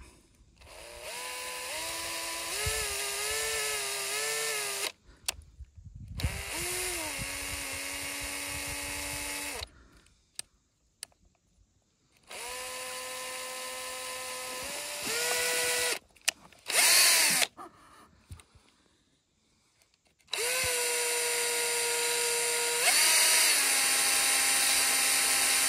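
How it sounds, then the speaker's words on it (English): A power drill spins a cotton swab to clean a Kawasaki Brute Force 300 carburetor, in several sustained whining bursts of a few seconds each with short silent gaps, close and loud. "you attach a Q-tip to your screwdriver or power drill"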